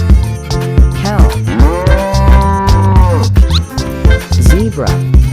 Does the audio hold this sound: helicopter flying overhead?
no